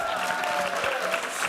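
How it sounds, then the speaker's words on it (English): Applause at the close of a lecture and conversation: steady, fairly faint clapping from a seated audience that continues throughout. "one more time, let's give a round of applause"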